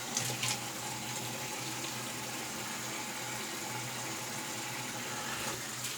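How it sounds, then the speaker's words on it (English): Running tap water rinses off after a wet shave, a steady broadband splash that goes on with no break and stays fairly quiet. Faint clicks come near the start and the end. "So, all right, let's rinse off."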